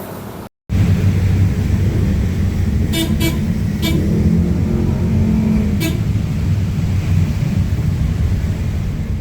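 Busy street traffic while waiting to board an angkot minibus, a constant low rumble of engines with several short car horn toots in quick succession and one more a little later.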